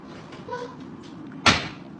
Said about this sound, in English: 2 of the doors pop open simultaneously